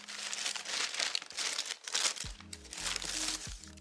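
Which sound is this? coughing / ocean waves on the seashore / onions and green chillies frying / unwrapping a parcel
unwrapping a parcel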